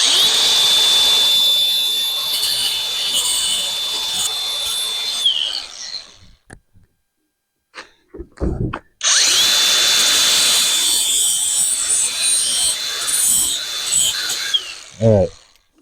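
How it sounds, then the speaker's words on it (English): A power tool sands off the ends of axle parts on a Ram truck axle with a loud, high whine. It runs for about six seconds, pauses with a few clunks, then starts again at close range. "Just sand off these ends here real quick."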